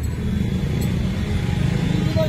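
Diesel engine of a Mahindra Ultra 605Di tractor running with its fuel supply turned up, a steady low rumble throughout while the machine bounces along, with a voice talking over it.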